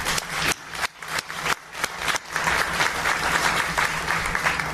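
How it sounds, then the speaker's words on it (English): An audience at a behavioral healthcare talk breaks into a round of applause, dense and loud, with the clapping pulsing at first then settling into a steady, full roar of many hands nearby. "Let's give them a round of applause."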